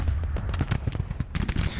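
Cannon fire from a division of artillery in the Civil War strategy game Grand Tactician, a dense rolling series of booming shots that overlap into continuous battle noise.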